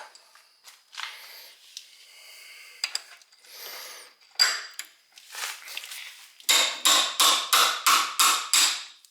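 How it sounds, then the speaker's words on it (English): A hammer strikes a ratchet while the front end of a 1968 Pontiac GTO is being torn down, first in scattered knocks and clatters, then in a rapid run of about eight loud, evenly spaced metallic blows near the end. "normally I wouldn't hit on my ratchet like that"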